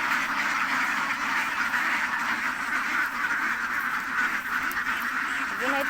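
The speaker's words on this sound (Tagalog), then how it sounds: "papalabasin natin yung mga itik para ipunin yung mga itlog" Domestic ducks (itik) quack steadily on a farm as they are let out of their pen so their eggs can be collected, a dense continuous flock chatter close by, with people talking in the background.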